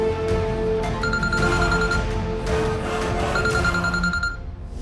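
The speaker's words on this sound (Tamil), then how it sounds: "டேய், பவானி மேடம் தான்டா ஃபோன் பண்றாங்க" A telephone rings in repeated bursts of bright electronic trilling tones over a dense background of music or room sound, with no voices heard.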